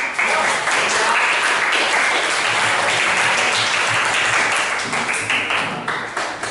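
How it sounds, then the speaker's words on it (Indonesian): A classroom audience claps steadily for several seconds after a lesson presentation, a dense sustained patter of many hands that thins and turns into scattered separate claps near the end. "Tepuk tangan."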